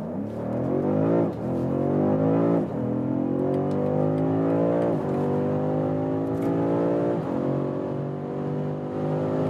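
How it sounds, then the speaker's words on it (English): A BMW car accelerates hard from about 30 km/h, its engine note climbing steeply and dropping back at each of several quick upshifts. It is loud and close and steady throughout, with no talking. "We're starting at about 30 kilometers an hour and let the hell out of this vehicle."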